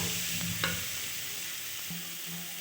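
Grated coconut cooking in a wok on a gas stove, a faint, quiet sizzle with a few soft stirring scrapes and light clinks, heard alone without any talking.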